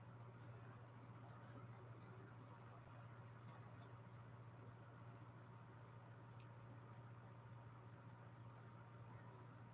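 A cricket chirps in short, evenly spaced bursts against a steady low hum indoors, faint but repeating through the second half of the stretch.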